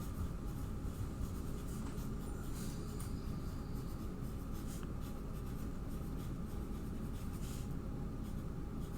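A pen scratches steadily across the pages of a journal, a continuous soft scraping rasp close by, with no speech.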